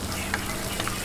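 Crumbled longganisa sausage and onion frying in a pan, a constant close hiss of sizzling oil with a couple of faint stirring taps, no talking.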